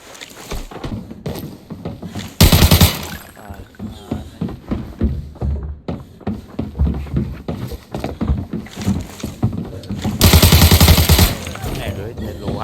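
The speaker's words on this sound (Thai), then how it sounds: "โอ้มันยิงกันเต็มเลย" Bursts of gunfire from the shooter game Arena Breakout crackle in two loud volleys, with scattered shots in between, while a player talks excitedly over the action.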